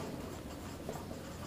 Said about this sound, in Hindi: तो हम यहां पे लिखेंगे